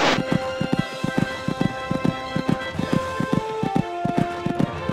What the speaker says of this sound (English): These two are really galloping now.